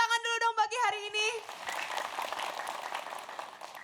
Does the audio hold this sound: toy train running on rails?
no